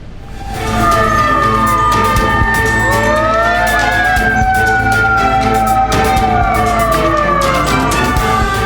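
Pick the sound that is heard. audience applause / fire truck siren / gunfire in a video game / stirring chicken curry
fire truck siren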